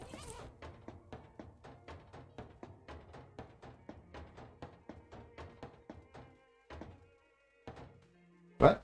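Zimmerman's cello gun firing in Shadows over Loathing, a fast, regular string of plucked, thunking shots over several seconds, then a pause and a few scattered sounds before a loud final burst.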